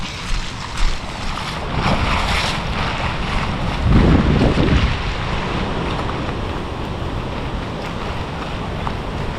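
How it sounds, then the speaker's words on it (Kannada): Loud, steady rushing of a monsoon stream near Somwarpet roars throughout, with a rough surge in the middle and wind buffeting the microphone; no voices. "ನೀರಿನ ಸೌಂಡ್ ಕೇಳ್ತಾ ಇರ್ಬೋದು ಜೋರಾಗಿ"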